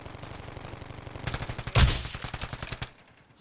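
Gunfire strikes the player in the Warzone battle royale game: rapid, rattling shots crackle steadily, peak in one loud, sharp burst near the middle, then taper off into quiet.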